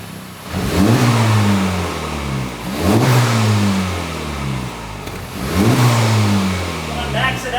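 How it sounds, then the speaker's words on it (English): A 2024 Honda Civic Type R engine in its R drive mode revs to about 3,000 RPM three times in a row. Each rise and fall is loud and close, with a steady idle between the pulls. "I'm just gonna rev it in the most sportiest R mode for the video."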